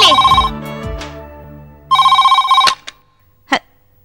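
A telephone rings indoors in two loud electronic bursts separated by a pause, with a few brief knocks and a faint voice near the end.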